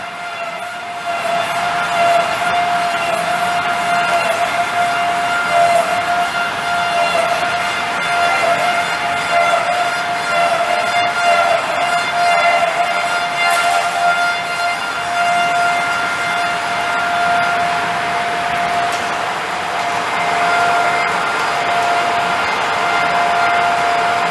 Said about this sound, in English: The machine is starting the finish cutting.